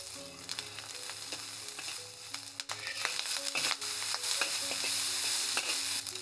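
Dried shrimp and dried radish stir-fry in a hot wok for savory glutinous rice dumplings, with steady close sizzling and frying and a spatula scraping and clanking against the metal, growing louder partway through.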